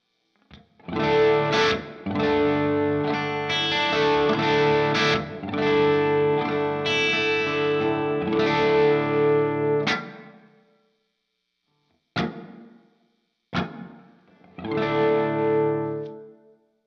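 Distorted electric guitar through a Strymon Iridium on its large room reverb setting rings out with a big, spacious reverb tail, then a few short stabs that echo and decay into silence.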